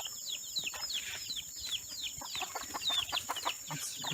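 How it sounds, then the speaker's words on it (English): A hen with her chicks clucks quietly outdoors on a hillside in Kuala Lumpur, with thin high peeping from the chicks and constant insect buzz over it. "It's a random chicken and its babies."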